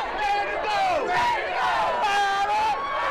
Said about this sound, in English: The crowd of people filed down Washington Street and then onto Main.